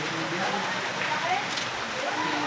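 Steady rain falls outdoors as an even, close hiss with faint splatter and no pauses.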